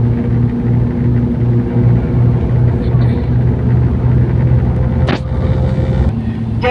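A bus drives along a road in Qatar, its low engine and road rumble steady throughout from inside the cabin, with a brief clatter near the end and a voice talking over it.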